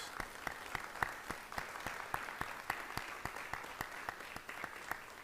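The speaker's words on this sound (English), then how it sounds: "Let's give these folks a round of applause." At a town council meeting, a small audience applauds with a sparse, rhythmic patter of individual claps, fairly quiet and distant, lasting a few seconds.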